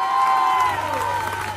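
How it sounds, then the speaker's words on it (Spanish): A crowd at a live band show at the 9th Fiesta de la Pasta Frola 2022 in Olivera cheers and applauds, loud and dense, with shrill whistles and whoops over the clapping. "Un aplauso para la gente de Boca, che, que salió campeón."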